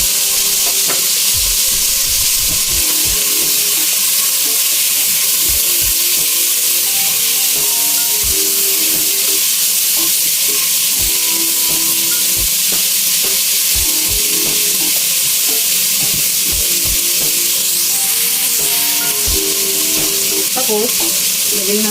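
Canton noodles stir-fried in a pan, with a constant loud sizzle and hiss under repeated scraping and tapping of a utensil against the pan.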